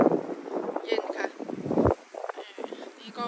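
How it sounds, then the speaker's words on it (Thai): Gusty wind buffets the microphone outdoors on a winter evening in a Dutch village, rumbling and rising in uneven bursts while someone talks over it. "ลมทำให้เราหนาวค่ะ"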